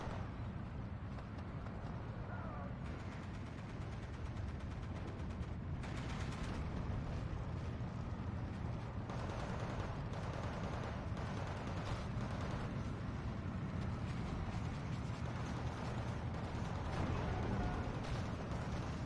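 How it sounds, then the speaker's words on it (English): Off-map artillery strike in the strategy game Steel Division 2, landing on an IS-2 tank: a dense, steady rumble of distant impacts and battle noise with no talk. "Off-map is hitting right on top of the IS-2."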